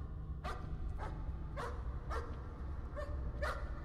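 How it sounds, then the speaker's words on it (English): A dog in the horror game Layers of Fear barks five times at a steady, spaced rhythm, each bark sharp and fairly close, over a low rumbling ambient drone with no talking. "Why is there a dog?"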